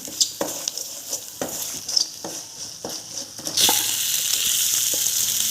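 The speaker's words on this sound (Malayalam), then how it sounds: "എന്നിട്ട് നന്നായിട്ട് മിക്സ് ചെയ്യാം" Spices and garam masala being stirred into masala dosa filling in a pan, with a string of close spatula scrapes over a light sizzle, then a louder, steady frying hiss.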